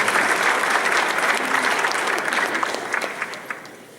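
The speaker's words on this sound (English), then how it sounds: "give him another round of applause" Audience at a safe-driving presentation applauding a guest, a steady wash of many hands clapping that slowly fades toward the end, heard alone without talk.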